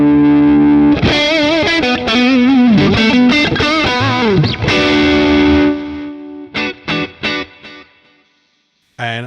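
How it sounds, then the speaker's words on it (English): Electric guitar through a Boss Katana MkII amp with its compressor set as a loud boost: sustained, distorted chords and bends ring out loudly, then a few short stabs before the sound cuts to silence. "Now you can assign this compressor as a really loud boost if you want,"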